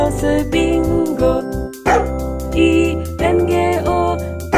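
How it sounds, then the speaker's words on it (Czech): A dog barking within a Czech children's song about a boy's dog, sung to the Bingo tune: several sharp bark-like yelps sit in the rhythm of a bright, tonal musical backing, loud and close, repeated in short bursts. "Byl malý chlapec, pejska měl, ten jmenoval se Bingo."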